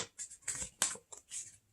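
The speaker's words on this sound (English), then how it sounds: "So after you have that first fold, you are going to just do it again. Fold that one in half." A sheet of paper being folded in half again for a zine, giving several soft crinkling rustles and creasing swipes in quick succession, close and fairly quiet.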